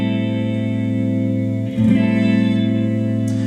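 Jazz guitar sounds the 2 chord of a 2-5-1 progression, rooted on A, as a lush sustained chord with effects-laden shimmer and reverb. It is re-strummed once partway through and rings steadily, close and loud, with no talking.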